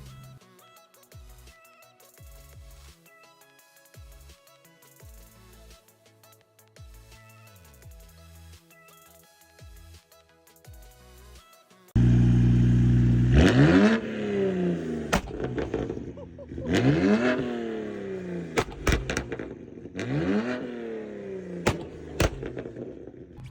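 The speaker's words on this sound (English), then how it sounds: "it's like a flame map, pop map. So it just has like a bunch of flames" BMW E92 335i with N54 twin-turbo engine, six-speed manual and flame/pop map tune, revving loudly with sharp exhaust pops and crackles between rising engine sweeps, following a quieter stretch of music.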